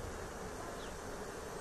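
Honeybees buzz steadily during a hive relocation at a zoo on the Isle of Wight, a dense, continuous hum of many insects heard close and unbroken throughout.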